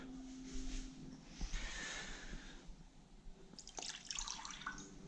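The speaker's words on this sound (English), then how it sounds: "Now I'm going to get this wet, this rag, on a damp rag." Water wetting a rag for decorating caulk work, with trickling, dripping and splashing, a wringing burst in the middle and more dripping near the end, no talking.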